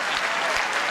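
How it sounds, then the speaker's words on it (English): Guests at a 1994 Democratic National Committee reception giving a short, steady round of applause, a close, dense patter of clapping. "Let's give John a nice round of applause for being a..."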